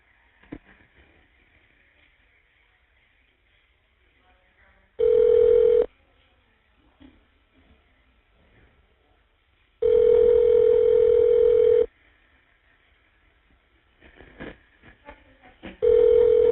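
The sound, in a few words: phone call being dialed and ringing on a jail call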